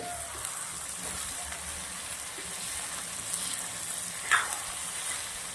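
Green chickpeas and green onion sizzle steadily in a pan as spices, turmeric, coriander-cumin powder and salt, are stirred in, giving a constant close frying hiss with occasional soft scrapes.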